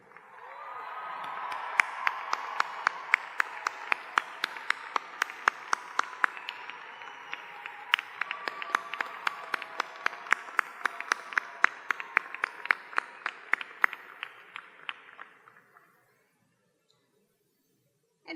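A large audience at the Miami Dade College Kendall and West Campuses 2019 commencement applauds the faculty, with sustained crowd clapping and sharp individual claps standing out, continuing for about fifteen seconds before stopping abruptly.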